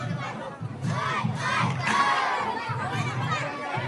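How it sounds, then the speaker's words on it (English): Children chant and shout together as they dance through the ancient streets during a religious festival in Kathmandu, Nepal, a dense, loud crowd of young voices in rhythmic bursts throughout. "The sound of a religious festival in Kathmandu, Nepal. Children dance as they chant and move through the ancient city streets."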